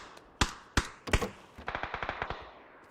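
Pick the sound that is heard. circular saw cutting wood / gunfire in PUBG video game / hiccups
gunfire in PUBG video game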